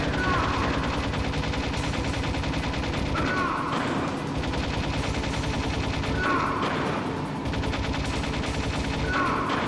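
Rapid gunfire fills a firefight in the Metal Gear Solid video game, with continuous bursts of shots and repeated game sound effects looping at a steady moderate level.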